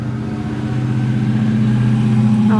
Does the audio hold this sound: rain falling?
no